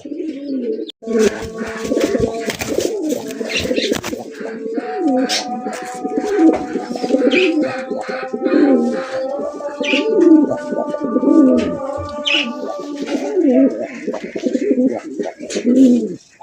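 Bombay pigeons kept for sale cooing continuously, several birds with overlapping throaty, rolling coos and occasional faint chirps, close by and filling the whole stretch.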